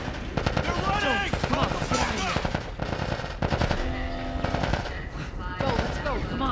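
Video game gunfire in a firefight: dense bursts of automatic weapons fire crackle loudly and continuously with overlapping shots, while characters shout over the shooting.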